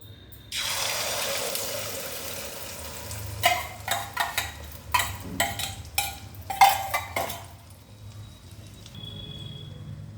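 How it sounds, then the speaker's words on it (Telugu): Egg dosa batter hitting a hot pan, a sudden steady sizzle that holds under a series of close scraping and tapping kitchen sounds, then fades to a quieter hiss. "ఇప్పుడు అట్టేసేసుకుందాం ఇప్పుడు వేసేసుకుందాం"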